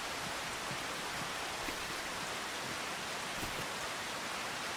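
Steady rain falling in the Farming Simulator 25 video game, a constant even hiss with scattered drops and no voices.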